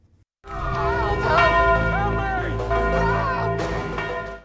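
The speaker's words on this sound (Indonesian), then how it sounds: "Michael meminta Veronica untuk menyuruh Eric membunyikan lonceng yang ada di hadapan mereka" A large bell rings loudly and close, one strike with a long, rich shimmering resonance that sustains for several seconds.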